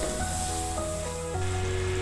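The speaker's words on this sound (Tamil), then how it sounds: "நல்லா கொதிக்குது." Sugar syrup boils steadily in a pan, a continuous close bubbling hiss with a faint tonal hum underneath.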